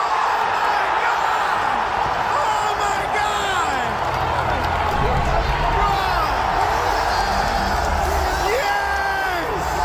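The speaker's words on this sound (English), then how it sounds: "this is the crowd reacting to Heihachi Mishima" A large live crowd roars and cheers at the reveal of Heihachi Mishima in the Tekken fighting game, a dense, sustained wall of shouts, whoops and applause that stays loud from start to finish.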